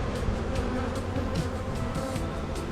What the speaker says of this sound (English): You can see there's a lot of bees in there.